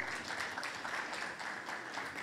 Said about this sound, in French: Madame Fourati, on l'applaudit s'il vous plaît